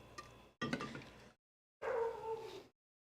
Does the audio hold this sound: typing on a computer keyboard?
no